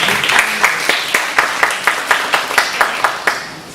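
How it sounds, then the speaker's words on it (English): Audience at an Asian Bioethics Association conference opening session clapping loudly, with steady rhythmic claps that keep an even beat throughout, close and bright over a dense wash of applause. "Please give him a warm applause."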